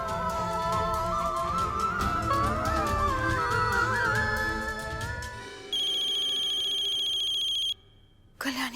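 A telephone rings steadily in a quiet indoor room during a Hindi TV drama scene, the electronic ringtone cutting in sharply for a couple of seconds after background music fades, then stopping abruptly.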